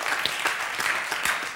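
Dense, steady audience applause fills a French television dating show, a continuous wash of many clapping hands without pause.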